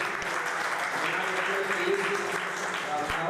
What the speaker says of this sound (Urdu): ان کے لیے ایک بار زوردار تالیاں بجائیں